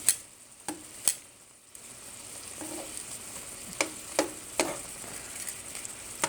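Shrimp cooking for New Orleans-style BBQ shrimp give off a steady, moderate sizzle throughout, with a few sharp clicks or taps of utensils scattered over the frying hiss and no talking.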